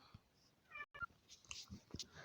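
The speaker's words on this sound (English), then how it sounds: "The cat's meowing." Cat meowing indoors, a few faint, short mews close by against quiet room noise.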